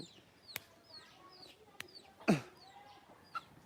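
A rooster on a farm raising desi chickens and turkey chicks gives a few soft clucks, with one fuller call in the middle, amid faint chirping birds in a quiet setting.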